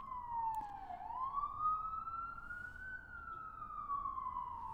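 A city siren sounds in Hell's Kitchen, its wailing tone sweeping down and then back up in a single steady cycle over faint low traffic rumble, moderately distant.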